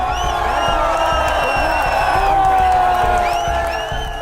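A large crowd of protesters at Jantar Mantar, with a police blockade on the road, forms a loud, close, continuous roar of many voices with rising shouts and chant-like calls over a dense murmur.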